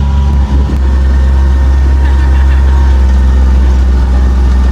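A steady, low John Deere tractor engine idles nearby, a constant rumble with a faint mechanical hum and no pauses.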